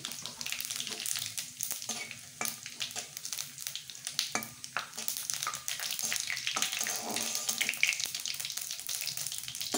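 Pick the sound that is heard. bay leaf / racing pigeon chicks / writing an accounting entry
bay leaf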